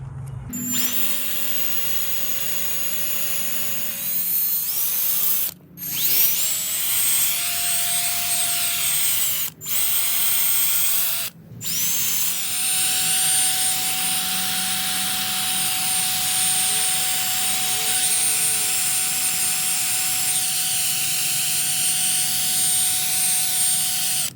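A power drill whines steadily with a wire brush grinding rust off an iron plant stand, the motor pitch shifting and cutting out briefly a few times.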